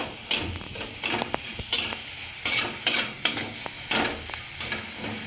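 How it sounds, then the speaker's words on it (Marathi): Jaggery and grated coconut are stirred in a kadai over low flame, with a rhythmic series of close scraping strokes against the pan, roughly two per second, over a soft background sizzle. "गूळ आणि खोबरे कढईला चिटकते म्हणून आपण ते चाळत राहायचे आहे असेच न सोडता"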